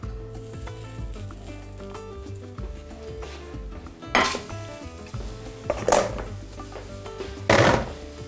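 Glass noodles are tipped into a bowl in a kitchen. Three sharp clinks and clatters of dishware rise over a low background hum.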